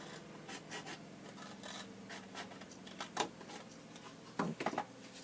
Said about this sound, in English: we're just going to cut back to that score line, straight back as you can cut